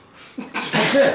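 A single sneeze bursts out during a tabletop role-playing game session, a sharp intake followed by a loud broadband burst, with chatter around it.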